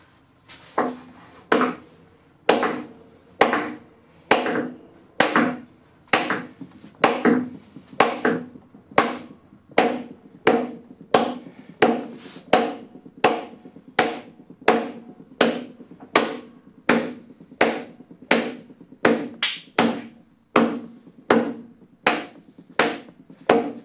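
A wooden barn-style door piece is tapped into place in a woodshop with a steady run of sharp knocks, several dozen evenly spaced hits about a second apart, close and fairly loud.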